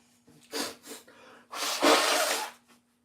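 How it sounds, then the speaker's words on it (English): Someone blows their nose twice, a short snort and then a longer, forceful rasping blow, close to the microphone. "Sorry, I got blow my nose."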